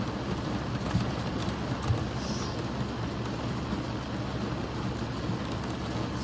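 Rain falls steadily as an even, unbroken hiss that holds at a constant level throughout, with no voices.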